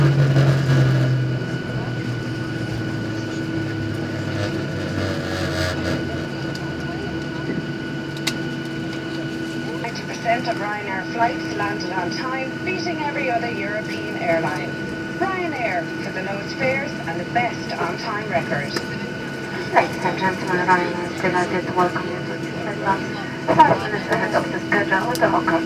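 Ryanair airliner landing at East Midlands Airport, heard from inside the cabin: a low engine and airframe roar that drops away early, then a quieter steady hum while people talk nearby.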